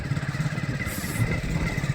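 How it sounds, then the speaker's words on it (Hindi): Motorcycle engine droning steadily up close as it rides off through a village, a continuous mid-pitched hum with slight throttle variation and no talk. "ये देखिए बाइक से हम लोग निकल चुके हैं।"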